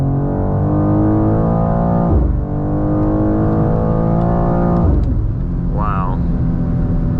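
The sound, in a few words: 2024 BMW M2 G87 accelerating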